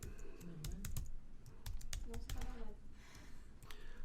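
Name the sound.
typing on a computer keyboard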